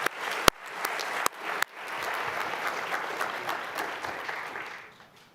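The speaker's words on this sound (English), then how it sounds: "let's recognize her for this achievement with applause" Audience applause at the UCF Founders' Day Student Honors Celebration: a few sharp early claps swell into steady, full-room clapping that holds for several seconds, then tapers off near the end.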